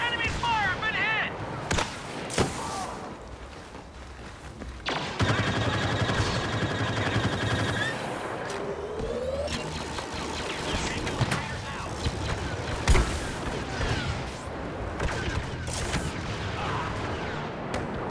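Gunfire in the Star Wars Battlefront video game during a Rogue One Scarif infiltration mission, with repeated blaster shots and bursts amid loud battle noise while voices speak over the action.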